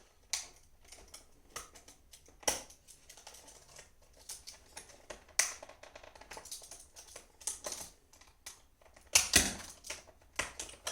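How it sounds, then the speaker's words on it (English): Hard plastic being cut by hand during an airsoft rifle upgrade, heard as a scatter of sharp clicks and snaps in irregular bursts, close and fairly quiet with no talking. "Then you take a piece of this hard plastic. So let me just cut a little piece off."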